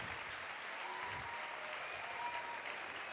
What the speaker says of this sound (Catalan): Un fort aplaudiment per Tomeu Català!